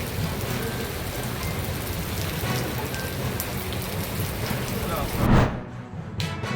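Steady heavy unseasonal rain pours down continuously in Kottigehara, a dense broadband hiss with a brief louder burst near the end before it thins slightly.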